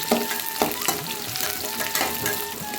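Small onions and garlic sautéing in hot oil, a dense, loud, continuous sizzle with rhythmic stirring scrapes every half second, close up and without speech.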